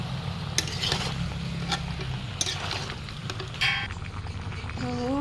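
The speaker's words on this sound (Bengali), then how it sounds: "লঙ্কার গুঁড়ো মারবো, আর 1 চামচ হলুদ মারবো। এটা ভালো করে নাড়বো।" Chicken is stirred in a pan with chilli powder and turmeric, giving a soft frying sizzle broken by spatula scrapes and clinks against the pan, close by, with no talking.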